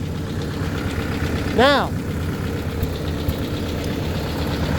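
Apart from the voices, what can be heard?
Ford 800 tractor engine idling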